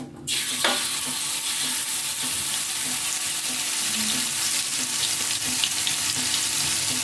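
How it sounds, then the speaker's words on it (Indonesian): Spice paste for orek tempe sautéing in a hot pan, a steady close sizzle and crackle that holds throughout, with occasional stirring scrapes and no talk. "Kita tumis bumbunya dulu"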